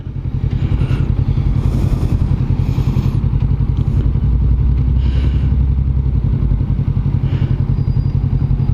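A 2021 Kawasaki Vulcan S cruiser motorcycle being ridden at an easy pace, its engine giving a steady, close, low, thumping rumble with rapid even pulses and faint clatter and wind noise above.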